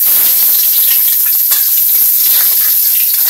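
Garlic and onion sizzle loudly in hot oil, a dense continuous hiss and crackle held close up, steady from start to finish with no pauses.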